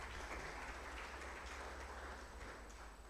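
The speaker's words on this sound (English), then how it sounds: "Let us give all the speakers a very big round of applause." Applause from a conference audience at a civil society gathering in eastern Uganda, a steady, dense wash of many hands clapping that stays fairly quiet and even throughout, with no talk over it.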